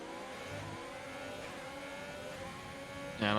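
Formula 1 cars in the F1 2020 racing game sweep through the Degner curves at the Japanese Grand Prix, their engines a steady high-pitched whine that holds throughout, ending in a louder burst.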